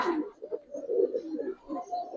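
Giribaz Pakistani high flyer silver pigeons coo softly nearby in a short burst of low, rolling, throaty calls.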